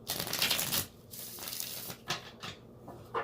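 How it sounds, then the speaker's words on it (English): Spirit guide cards being shuffled close by: a longer riffling swish followed by several shorter, softer flicks and taps, with no talk. "I love shuffling up my spirit guides, my spirit cards."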